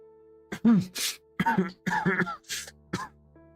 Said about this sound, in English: your cough's gotten pretty bad